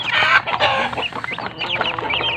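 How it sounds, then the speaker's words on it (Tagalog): Backyard chickens, two-week-old chicks kept with native hens, cluck and peep loudly and close by in dense overlapping bursts, with no talk. "ito yung mga bago nating manok na 2 weeks old kasama ng ating native"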